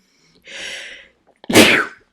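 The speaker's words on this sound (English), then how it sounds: "technically that was a sneeze" A single close, loud sneeze: a drawn-in breath followed by a sharp, explosive burst, with silence around it.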